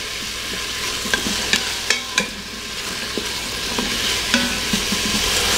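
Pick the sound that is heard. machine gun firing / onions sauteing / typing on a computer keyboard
onions sauteing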